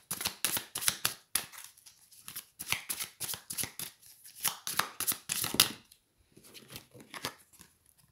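Tarot cards being shuffled by hand, rapid crisp riffling bursts in quick repeated clusters, close and clear, with short pauses between rounds and a last few softer flicks as cards are drawn.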